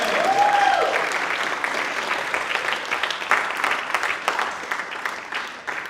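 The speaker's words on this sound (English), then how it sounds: "Give another round of applause to Tom Simon." An audience claps at a high school movie festival, a dense, steady wash of applause that starts loud and slowly fades, with a few whoops mixed in.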